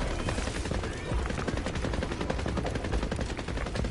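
Rapid automatic gunfire from a newly acquired gun in a battle royale video game, dense bursts of shots rattling continuously and loudly for the whole stretch.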